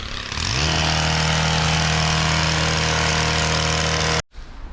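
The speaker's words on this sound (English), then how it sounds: "I'm going to keep mowing with 2 hands" Petrol lawn mower cutting grass in a city garden, its engine droning steadily and loud close by before cutting off abruptly near the end.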